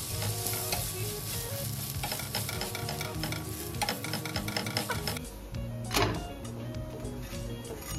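Adai dosa, a lentil dosa cooked in sesame oil over low heat, sizzles steadily on a pan with scraping and clinking from a spatula, close and continuous, and no one speaks.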